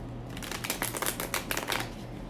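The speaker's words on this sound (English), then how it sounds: "So let's go ahead and shuffle. I'm going to use the Light Seers Tarot." A deck of Light Seers Tarot cards is shuffled close by, giving a soft, continuous riffle of flapping card edges for a couple of seconds with no talk.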